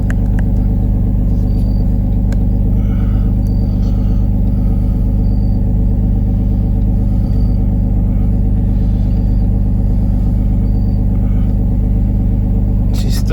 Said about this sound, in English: She's still idling too high.